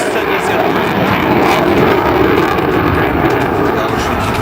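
A Su-27 fighter jet roars past at an air show, a loud continuous broadband engine rumble that fills the whole moment at close range.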